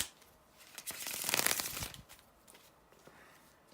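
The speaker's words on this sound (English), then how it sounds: "to shuffle the cards and we can go directly to the weekly tarot spread here" Tarot cards are shuffled close by, a crisp riffling and sliding swell that peaks midway and then trails into lighter card rustles.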